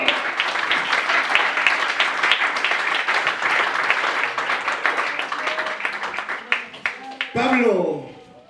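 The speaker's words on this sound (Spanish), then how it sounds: "Fuerte el aplauso al Señor." Church congregation claps loudly and continuously for the Lord during a Spanish-language sermon; near the end the applause gives way to a voice.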